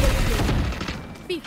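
A rocket launcher fires in Valorant with a heavy, booming blast that fades into a rumbling tail. A short voice comes through near the end.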